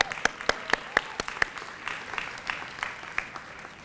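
Sparse applause from a small audience at a dual enrollment celebration ceremony for high school students, a handful of distinct claps standing out over a soft patter that thins toward the end.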